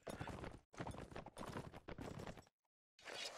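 Horse hooves clip-clop in a competitive online video game match, a quick run of steady hoofbeats in several bursts with a short silent gap before a final burst, no talk over them.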